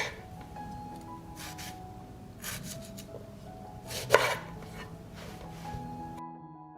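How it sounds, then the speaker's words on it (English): A knife chopping tomatoes into large pieces on a cutting board, several scattered cuts with a brief scraping sound, close and fairly quiet. "I will cut the tomatoes into larger pieces."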